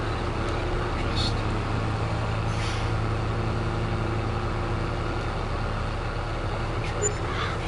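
Tractor engine idling steadily in a farming video game, a continuous low mechanical hum with a few faint clicks on top, while a person talks over it throughout.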